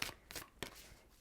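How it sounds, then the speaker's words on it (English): Tarot cards being shuffled by hand, three quick soft riffling bursts close by, quiet and alone. "Okay, let's shuffle."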